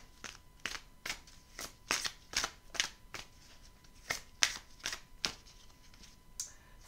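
Oracle cards being handled and shuffled for a card reading, a quick series of crisp riffling snaps and flicks, close and fairly quiet, with no talk.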